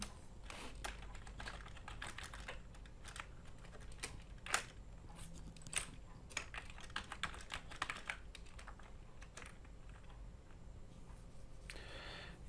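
Quick, uneven keystrokes on a computer keyboard while a name and email address are entered into an online registration form, a steady run of close clicks with a few louder taps and no talking.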